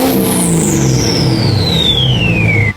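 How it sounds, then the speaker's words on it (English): A rusty Duramax diesel truck fitted with a 9-blade RDS 64mm turbo roars loudly up close, a steady exhaust rumble under a high turbo whistle that sweeps downward in pitch over about three seconds. "So what you're hearing is a 9-blade RDS 64mm turbo to be exact."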